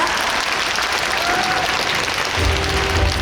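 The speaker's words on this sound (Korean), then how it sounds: "박수 치면서 저희 자리 마감하도록 하겠습니다" A film festival open talk audience applauds in a dense, steady wash of clapping, fairly close and loud throughout.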